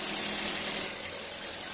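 A car engine idles close by in a Filipino repair setting about engine and dashboard vibration, a steady, even mid-low hum and rumble with no speech over it.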